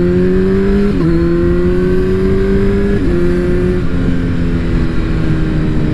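A Kawasaki Z900 motorcycle accelerates hard, its engine note climbing and then dropping sharply at each of three quick quickshifter upshifts, loud and close.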